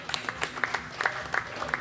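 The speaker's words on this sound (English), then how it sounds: "So everybody should give themselves a round of applause" A panel event audience gives a short round of applause, scattered claps standing out over a soft murmur, fairly faint and distant.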